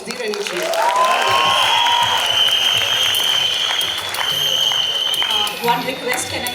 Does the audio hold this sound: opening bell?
no